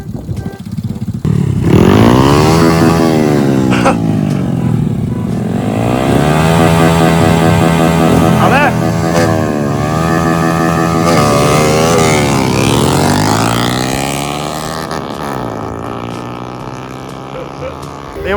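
A Honda Dream motorbike engine revs loudly and close by, pitch rising and falling in repeated surges, with voices talking faintly underneath.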